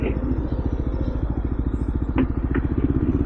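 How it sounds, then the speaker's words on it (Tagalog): A motorcycle engine runs close behind on a road near Coto Mines in Masinloc, Zambales, a steady rapid chugging throb with a couple of brief clatters over it. "may motor sa likod mo"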